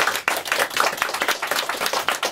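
A crowd at a live music show keeps up a loud, continuous round of clapping, hands blending into a thick, even roar with no voices rising above it.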